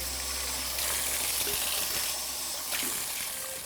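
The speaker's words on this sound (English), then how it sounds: "I'm gonna rinse this off" Running water rinses coconut body scrub off the skin, a steady close rush of splashing flow like a tap or shower, lasting a few seconds with no talking.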